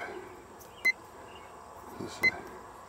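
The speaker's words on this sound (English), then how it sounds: "okay, beep is on." Two short, high electronic beeps from a fireworks firing system, about a second and a half apart, clear over a low steady background hum.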